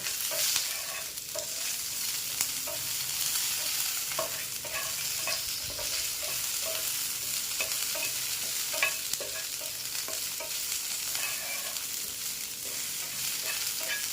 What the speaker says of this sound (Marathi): त्यातच मी आता घेतलेला लसूण टाकून घेते आठ ते नऊ पाकळ्या आणि कढीपत्ता आणि एखाद्या मिनटं फक्त आपल्याला हे परतून घ्यायचं आहे